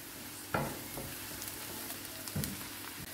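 Onions fry in hot oil as turmeric is stirred in for a Punjabi carrot, potato and pea curry, a steady sizzle broken by a couple of louder stirring scrapes.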